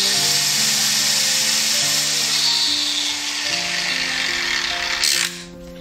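A corded angle grinder switched on and running, giving a loud, steady high-pitched whine that holds for about five seconds, then cuts off and winds down at the end.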